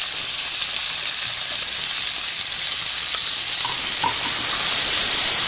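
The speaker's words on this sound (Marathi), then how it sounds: "थोडंसं फ्राय करून घेतो।" Onion and capsicum fry in oil in a pan, giving a steady, dense sizzle that swells slightly toward the end, close up, with a few faint clinks and no talk.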